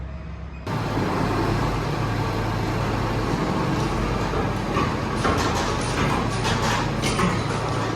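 Old Case 590 backhoe on a farm rolling away, a steady loud diesel rumble with broadband mechanical noise holding constant after starting abruptly, no talk over it.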